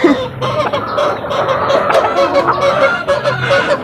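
Chickens and chicks call close by, with repeated loud clucks and honking hen sounds over a dense, continuous background of peeping and chatter.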